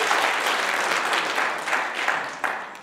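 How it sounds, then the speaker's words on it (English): Audience applause at a new-music concert of pieces for resonator guitar and violin, a sustained, fairly distant wash of clapping with no break. "Round of applause."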